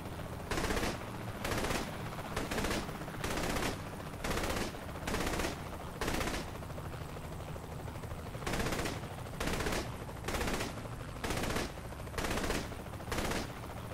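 Gunfire in the video game Saints Row The Third: repeated short bursts of shots, roughly one burst every second, loud and close over a constant low background, with no one talking.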